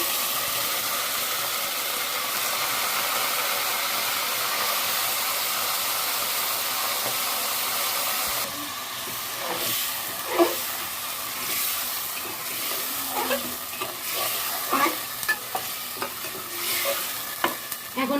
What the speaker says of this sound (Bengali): পরিমাণ মতন আমি সয়াবিন তেল দিয়ে দিলাম তেলের ভিতরে আমি মাংসগুলো দিয়ে দিব